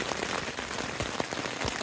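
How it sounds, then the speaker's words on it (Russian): Rain patters steadily on a cheap camping tent that has started to leak, dense close drops tapping the fabric with occasional louder plops, and no voices. "Дождь идет примерно час"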